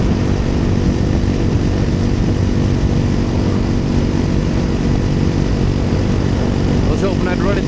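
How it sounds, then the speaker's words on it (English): A motorcycle on a Cascade adventure ride into the Wasatch Mountains, with a cover fitted over its exhaust header, gives a loud, continuous engine and exhaust drone throughout, mixed with wind roar. "I think it's changed the exhaust note, like the exhaust sound of my bike."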